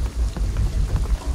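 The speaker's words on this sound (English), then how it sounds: "the rain is gonna flood this" Steady heavy rain falls in the video game Shadow of the Tomb Raider, a dense continuous wash with a deep low rumble that may be distant thunder, with no talking.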